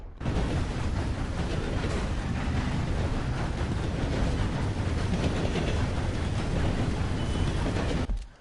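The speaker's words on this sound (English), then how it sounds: "I'm gonna stop the train" A train rolls along the rails in Red Dead Redemption 2, a dense, continuous rumble and rush of wheels and wind that stays loud and steady before cutting off abruptly near the end.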